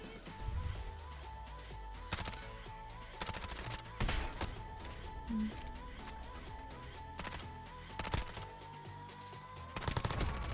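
Call of Duty gunfire crackles through a 2v2 match, with sharp single shots and brief automatic bursts scattered across about ten seconds, loud and close over a steady game backdrop.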